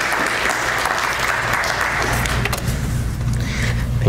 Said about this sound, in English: I think a warm round of applause for these two.